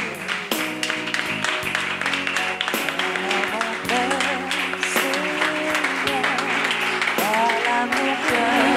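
Congregation at a French-language church conference applauding to acclaim Jesus, a loud, sustained clapping over music with voices mixed in throughout.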